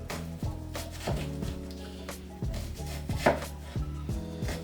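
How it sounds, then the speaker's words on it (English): An onion sliced with a kitchen knife on a cutting board, a steady series of firm close chops and knocks on the board, about ten strokes in irregular rhythm, loud and alone. "you want to make some slices going this way"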